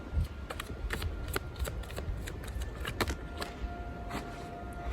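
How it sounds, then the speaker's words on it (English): Tarot cards are shuffled in quick, crisp riffling bursts, close and fairly quiet, repeating steadily with no voices. "As I was shuffling, the ones that flew out actually flew on top of some cards"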